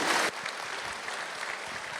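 Panel audience at a Star Wars fan festival breaks into applause, loudest in a brief opening burst before settling into steady, lighter clapping that carries on to the end.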